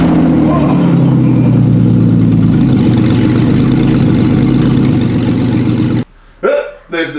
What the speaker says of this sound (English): anytime you take an exhaust off of an engine, detaching it from the headers, and you've got that header to nothing, you have to start the car.